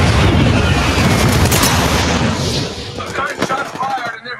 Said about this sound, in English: Those guys shots fired and they're hitting me